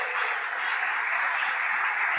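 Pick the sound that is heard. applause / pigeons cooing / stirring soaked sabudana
applause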